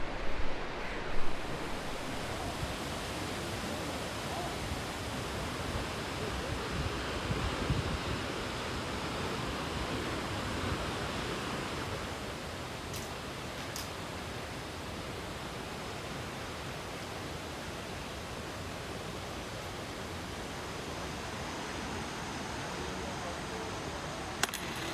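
Nachi Falls in Japan pours down as a dense, even roar of rushing water with misty spray, heard from nearby, constant and broad throughout.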